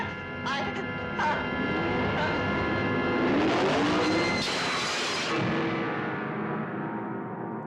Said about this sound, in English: I think I hear the engine of that car.